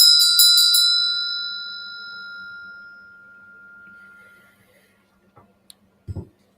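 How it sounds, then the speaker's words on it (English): A meditation bell is struck about five times in quick succession and then left to ring out, its clear tone decaying slowly over several seconds in a quiet room, followed by a few faint knocks and soft movement. "Why don't I ring the bell to kind of focus us a little bit?"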